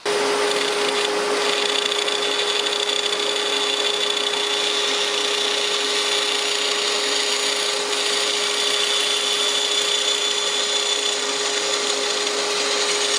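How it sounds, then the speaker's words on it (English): A bandsaw runs without a break while making a short rip cut in pine for a bookshelf notch, giving a loud, even machine whine with a steady hum throughout and no voices. "the first step in cutting that notch is to cut this little rip cut right here on the bandsaw"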